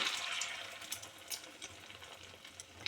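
Milk fritters frying in hot oil, a continuous fizzy crackle with scattered pops and bubbling, close and fairly steady without any talk.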